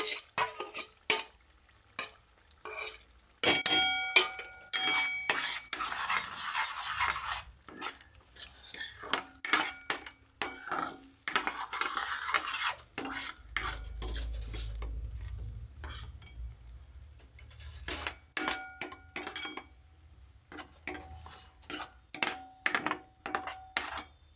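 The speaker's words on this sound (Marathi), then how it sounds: "तळलेली पालक पण टाकणार आहोत ग्रेव्ही अशी मस्त पाच पाच मिनटं याला छान तेलामध्ये परतून घ्यायची आहे" Fried spinach gravy is sautéed in oil for butter palak paneer. A spoon scrapes and clinks against the pan in irregular bursts over quiet, intermittent sizzling, with no talk.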